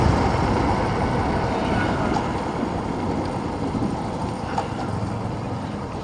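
A steady, loud rumble of a train passing the Nimtali railway crossing, with broadband rail noise running throughout, no voices.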